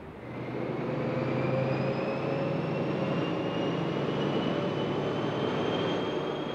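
A train running steadily, a continuous rumbling drone with faint whistling tones above it, loud and unbroken from start to end with no voices.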